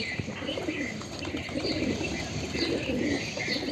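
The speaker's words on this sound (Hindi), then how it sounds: "देखिए ये वाला कबूतर एक आया है" Black pigeon cooing nearby in a pigeon coop, soft repeated low coos over a busy background of other birds chirping and faint wing flutters, no talking.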